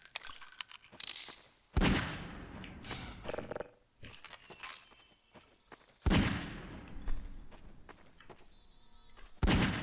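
Gunshots fired at targets in a video game, sharp loud bursts arriving in irregular clusters a few seconds apart, each followed by clattering debris and rattling tails.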